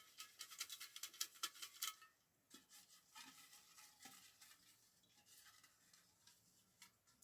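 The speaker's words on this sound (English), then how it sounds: "I'm just gonna shake up the bowl" Folded paper slips shaken in a bowl, a quick burst of rapid rustling and rattling, then lighter, scattered scratchy taps as the shaking slows, quiet and close.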